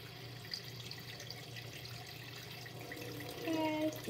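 Running water pours from a tap for washing a doll's hair, a soft continuous hiss heard fairly faintly throughout and swelling a little louder near the end, with no one speaking.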